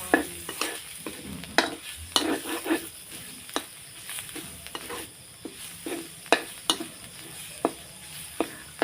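Thai curry paste stir-fried over low heat for a chicken kua kling curry, a soft sizzle under repeated sharp scrapes and taps of a spatula against the pan in an irregular rhythm.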